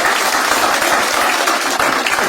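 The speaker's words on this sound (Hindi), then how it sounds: "एक बार जोरदार ताली हो जाए आपके लिए भी" Audience applause at a stand-up comedy show: a sustained wash of clapping from a full room, even and loud throughout with no break.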